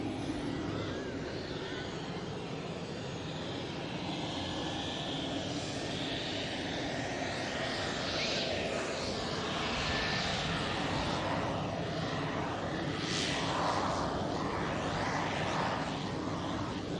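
A Sun Express airliner landing at Manchester Airport makes a continuous broad engine roar and rushing noise, steady and fairly loud, swelling slightly as it passes with faint background voices.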